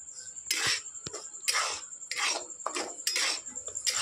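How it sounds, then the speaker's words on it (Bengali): Flour and semolina being stirred and dry-roasted in a wok, with a series of about seven rhythmic scraping sweeps of a utensil against the metal, close and fairly loud, with no voices. "তো যতক্ষণ লাল লাল করে ভাজানো হচ্ছে ততক্ষণ আমি এভাবে নেড়ে নেড়ে একটু ভেজে নেবো।"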